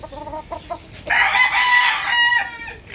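A rooster crows loudly and close by, a long strained call preceded by a few short clucks.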